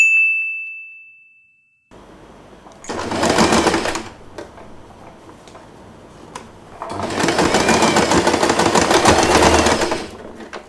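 A sewing machine stitches scrunchie fabric in two bursts of rapid, even clatter, a short run and then a longer one, with a high ding ringing out alone before the first.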